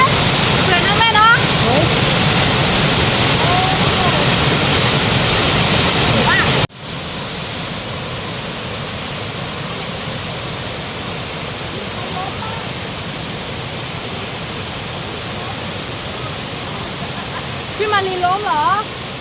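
The waterfall at Namtok Mai Kai near a Red Lahu village roars with a loud, steady broadband rush throughout, with brief voices faintly audible over the falling water.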